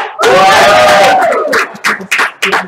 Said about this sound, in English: let's give them a little bit of a louder cheer